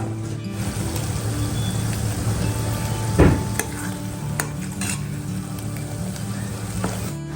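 Schezwan chutney sizzles steadily in a pan while being stirred, a continuous frying hiss with occasional scraping knocks of the spoon, close and alone without talk.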